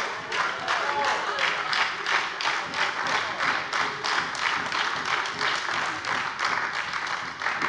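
Sustained applause fills a German state parliament plenary chamber, dense steady clapping from many hands over the full stretch with a faint murmur of voices mixed in.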